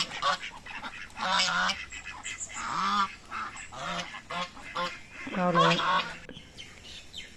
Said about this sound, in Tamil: இந்த பக்கம் வாத்து கூட்டம்